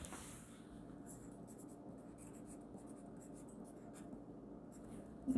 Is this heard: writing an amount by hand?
yes